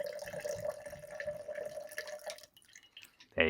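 Bourbon pours from an automatic two-ounce pour top in a thin, quiet trickle with a steady liquid tone that stops abruptly, followed by a brief clink.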